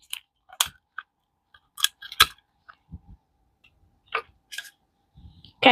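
Scissors snip through a plastic straw in a handful of sharp, close clicks spaced by quiet gaps, with no talking.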